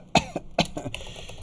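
A man on a live podcast stream coughs twice in quick succession, sharp and close, followed by a softer throat-clearing rasp.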